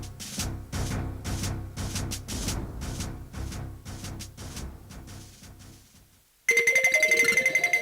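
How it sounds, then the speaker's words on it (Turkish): A telephone ringtone cuts in abruptly after several seconds of music, sounding as a loud, regular electronic trill of evenly spaced pulses that runs to the end. "Telefon sesi bu bir."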